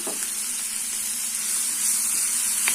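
Onion and tomato sauté with salt over medium flame for egg kothu parotta, giving a loud steady hiss of sizzling oil close by, with a couple of faint utensil taps and no talking.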